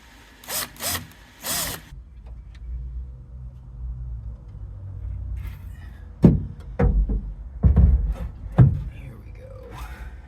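A power drill drives 8x 2 inch screws into the flooring of a Toyota Yaris micro RV conversion, giving several short, loud bursts in the second half of the clip, with an earlier whir and low background rumble.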